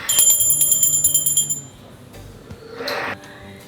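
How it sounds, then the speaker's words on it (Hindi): A small brass puja bell rung by hand during a Mahalakshmi worship ritual, bright rapid metallic strikes ringing for about a second and a half, then a softer pause and a brief clink near the end. "घंटी बजाएंगे।"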